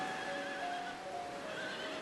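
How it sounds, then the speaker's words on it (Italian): A horse neighing at a riding stable, a sustained whinny with a wavering tonal cry lasting the whole moment, fairly close and clear over steady background noise, no voices. "Maneggio di cavalli."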